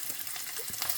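Garlic fries in oil in a pot, a short, dense close-up sizzle with faint stirring scrapes and no voices.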